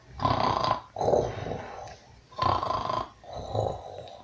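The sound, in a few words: giant snoring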